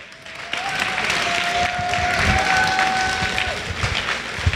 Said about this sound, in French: je vous demande d'accueillir Nak sous applaudissements.